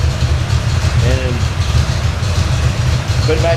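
A freshly built carbureted engine, its carburetor cleaned and float adjusted, idles low and steady with a loud, even rumble throughout, and faint background voices come through briefly.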